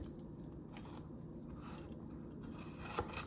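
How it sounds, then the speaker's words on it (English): A knife slicing down the sides of an ingredient while making steak fajitas gives a close, steady scraping and cutting texture that runs continuously, with a slightly sharper cut near the end. "I'm just going to cut right down those sides."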